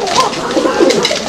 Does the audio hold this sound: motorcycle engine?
no